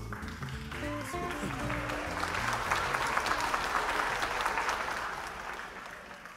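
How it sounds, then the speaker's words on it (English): An audience at the Sir Walter Raleigh Awards 2022 applauds, a dense, sustained burst of clapping that holds steady and then slowly fades, heard over the tail of music at the start. "Applause!"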